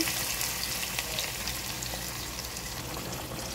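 Onion and panch phoron spices fry in oil for a tempering, giving a loud, steady, close sizzle that continues throughout without pause.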